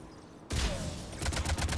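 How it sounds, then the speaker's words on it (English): Rocket launcher fire in the Mass Effect 3 multiplayer video game: a sudden loud blast cuts in from near silence, followed by a rapid run of sharp shots and impacts, fairly close and alone. "Rocket launcher!"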